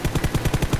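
Rifle fire in a battle royale shooter, fired from a prone position: a rapid, evenly spaced string of about eight sharp, punchy shots in under a second, close and loud.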